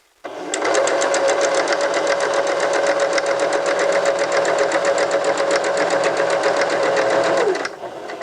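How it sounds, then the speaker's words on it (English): Sewing machine stitching a buttonhole bar tack in a sewing lesson, a loud, steady, rapid mechanical whirring that runs continuously for about seven seconds close up, with no voices, then stops abruptly. "after my machine does the first bar tack, and then it'll sew down to the other end"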